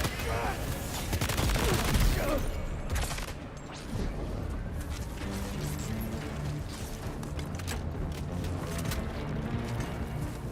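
Gunfire in Death Stranding 2, a dense barrage of sharp cracking shots with rattling mechanical clatter, continuous and loud throughout, with a voice talking over it.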